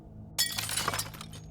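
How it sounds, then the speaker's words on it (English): Glass shattering in a living room, like a vase knocked over: a sudden bright crash followed by a brief scatter of tinkling shards. "I heard something shatter in the living room"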